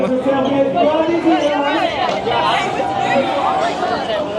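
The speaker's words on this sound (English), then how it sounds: "At least there's a good crowd there." Dense crowd chatter fills a busy nightlife square at the Yumbo Centre in Gran Canaria after dark, many overlapping voices forming a loud, close, continuous babble with no single clear talker.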